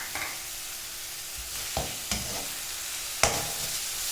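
Mushrooms with onion and salt sauté in a pan, a steady soft sizzle broken by a few sharp scrapes of stirring, close and alone with no voices.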